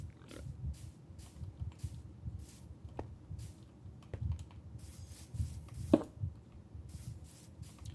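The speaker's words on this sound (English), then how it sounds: "the clicks are probably from either my keyboard or me clicking" Computer keyboard keys clicking quietly during a stream, a faint, irregular run of light taps and clicks that continues throughout with no talking.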